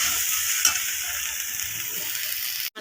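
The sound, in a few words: soybean chunks frying in oil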